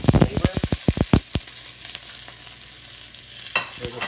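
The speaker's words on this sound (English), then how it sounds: "So what you want to hear is that sizzling, that browning of the meat." Ground meat browns in olive oil with a burst of sharp crackles and pops at first, then settles into a steady low sizzle, close and fairly loud with a few later spits.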